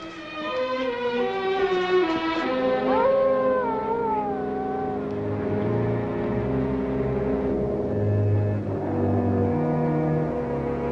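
Several dogs in a forest setting howl together in long, wavering, overlapping cries that rise and fall, then give way to lower, steadier tones near the end, with no talking.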